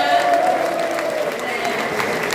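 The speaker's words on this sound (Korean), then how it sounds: "큰 박수 부탁드리겠습니다" Audience applause at a political campaign talk show on election strategy, a dense steady wash of clapping throughout with voices and tonal sound carrying over it.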